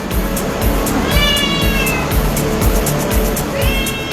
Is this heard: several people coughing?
no